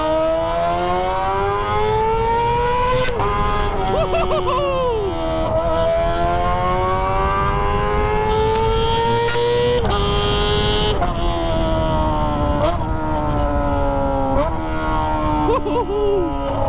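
A Kawasaki ZX25R fitted with a Toce exhaust revs hard. The high-pitched four-cylinder scream rises and falls through repeated climbs and drops. It is loud and close, with brief shifts between pulls.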